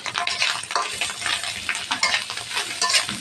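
Onion, garlic and green chili sizzle and fry in a pan over steady hissing, with a utensil stirring through them now and then; close and fairly loud, no talk.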